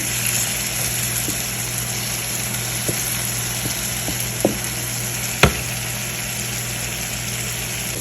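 Steady low sizzle of spices tempering in hot oil for a dhaba-style daal mash, with a few faint pops and one sharp click partway through, no voices.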